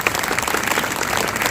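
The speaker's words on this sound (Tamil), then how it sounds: "ஒரு உற்சாகமாக கைத்தட்டி பாராட்டலாம்" A congregation inside St. Patrick's Church claps during a feast-day Mass, a brief, steady, close burst of many hands applauding together.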